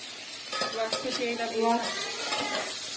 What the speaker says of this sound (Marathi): आता इथे टोमॅटो टाकलेला आहे, टोमॅटो टाकलं, हलवून घ्या.